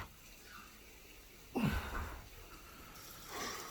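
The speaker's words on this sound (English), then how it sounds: "And then into a cold shower." A cold shower of running water switches on partway through, a sudden broadband rush that stays fairly close and steady, then swells again near the end, with no talking.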